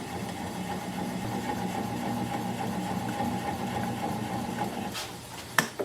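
A wood lathe turning Japanese quilted maple winds down after being switched off, a steady mid-pitched motor hum that fades gradually before a couple of sharp knocks at the end.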